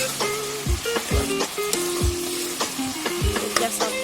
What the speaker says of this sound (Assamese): আৰু এফালে ঢাকনখন খুলি এয়া লৰাই দিছোঁ